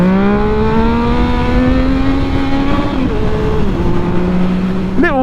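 A Yamaha MT09 motorcycle engine holds a loud, sustained rev during a wheelie, its pitch steady and slowly rising before dipping and then climbing sharply again at the end, very close and alone.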